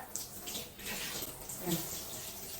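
Shower water runs steadily while a Tax/Drever mix hunting dog is bathed, a close, continuous splashing spray with brief louder surges.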